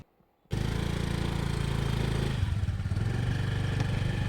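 Scooter running on a ride, its engine starting abruptly after a moment of quiet and then holding a loud, steady drone with rattling road noise up close.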